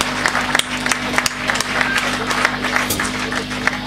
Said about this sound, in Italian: Un applauso fortissimo.